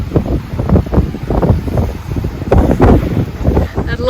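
Strong wind buffets the microphone on a crowded kite-surfing beach on the Florida Gulf Coast, loud gusty rumbling with constant fluctuations and surf in the background.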